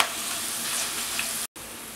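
Garlic frying in oil in a pan while being stirred, giving a steady, close, loud sizzle that cuts out briefly near the end.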